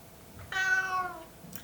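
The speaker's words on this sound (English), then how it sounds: "This is my cat Thales." A house cat gives a single clear, fairly close meow lasting about half a second inside a tiny house under construction, with quiet background and no talking.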